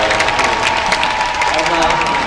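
Brief, loud burst of audience applause and light cheering greets actor Yoo Ah-in at a Busan International Film Festival open talk for Hellbound, with a voice speaking over the clapping.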